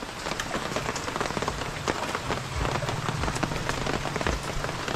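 Steady rain patters on a surface, a dense continuous hiss with scattered louder drops, no voices.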